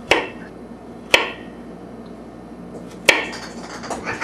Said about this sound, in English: now that our pears are all peeled, we're going to cut off the tops and the bottoms